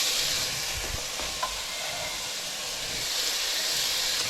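Peppers and onions sizzle in hot lard in a pan for a Hungarian meatball tomato base, a steady bright hiss of frying with a few stirring scrapes and clicks, close and moderately loud without talk.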